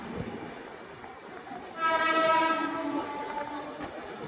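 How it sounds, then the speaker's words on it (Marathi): A Mumbai local train passes close by near Kalyan Junction, a steady rail rumble swelling midway with a brief sustained horn blast before settling back; no voices. "local train"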